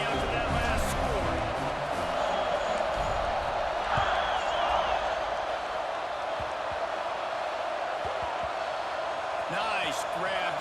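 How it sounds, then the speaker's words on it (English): A stadium crowd buzzes in a football video game after a score, a steady broad roar of murmuring fans with occasional thumps, while a commentator and a player talk over it. "this crowd is buzzing after that last score"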